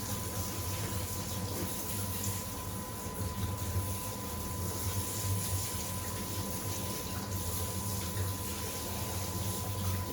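Steady stream of bath water rinses shampoo off a poodle's coat, a continuous close rushing and splashing that runs evenly throughout with no talk.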